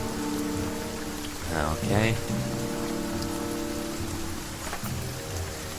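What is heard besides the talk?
rain in video game The Banner Saga 2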